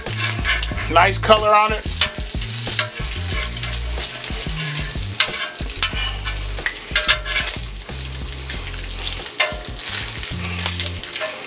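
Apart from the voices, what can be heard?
bacon frying and being flipped on a griddle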